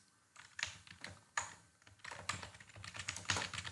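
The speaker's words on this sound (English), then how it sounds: "type your comment here, whatever it is you want to say right there" Rapid bursts of computer keyboard typing while a comment is entered, close and clear, with irregular clusters of keystrokes and brief pauses between them.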